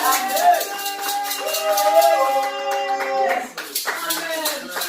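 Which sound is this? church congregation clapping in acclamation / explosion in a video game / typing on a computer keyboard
church congregation clapping in acclamation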